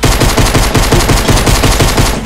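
Rapid automatic gunfire in Fortnite played on Xbox One, a loud, dense burst of closely spaced shots hammering on for about two seconds without pause, close and unaccompanied by talk.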